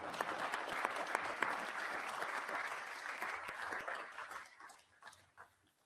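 Delegates in the Council of Europe assembly hall applaud after the Ukrainian prime minister's address, a dense, even clapping that holds for several seconds, then thins into scattered claps and fades out.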